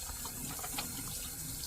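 A steady hiss of water spraying at close range into a brass instrument's main tuning slide during cleaning, continuous and even for the whole stretch with no pauses.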